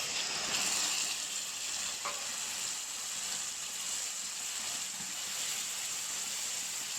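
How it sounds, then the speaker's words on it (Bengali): Turmeric powder and spice masala fry in a pan with a steady, close sizzle and hiss, the sound even and unbroken for several seconds, with one or two faint stirring clinks. "দিয়ে দেব হলুদ গুঁড়ো, দিয়ে দেব মশলাটা"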